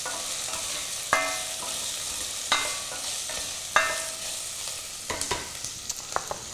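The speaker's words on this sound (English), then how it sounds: "Give this a stir. It's already smelling good, and it really doesn't even have anything going on other than chili and onion." Chili and onion being stirred in a pot for chicken curry, a steady sizzle underneath with several distinct scraping strokes spaced a second or two apart, then a flurry of quicker clinks toward the end; no talking.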